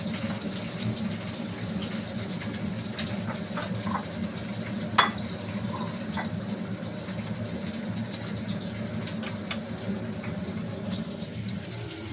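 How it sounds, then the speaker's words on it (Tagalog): Steady sizzling and crackling of fish frying in hot oil in a pan fills the whole stretch, with one brief clink partway through and no voices. "Prito ko na siya yung isda."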